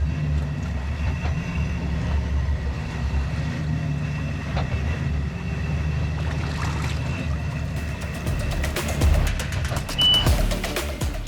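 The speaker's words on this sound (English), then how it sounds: "You hear those V12s rumbling up in sequence." Twin V12 engines on a Galeon 375 GTO motor yacht start in sequence and settle into a deep, steady rumble, close and loud, with wind buffeting the microphone and no talking.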